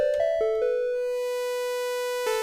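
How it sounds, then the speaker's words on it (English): Synth tone from a BLEASS Megalit synthesizer with its waveform morphing toward a brighter, buzzier shape, starting with a few quick repeated note attacks, then a long sustained note and a fresh attack near the end. "into saw, and then it'll blend from saw into square, and then it'll go into pulse width."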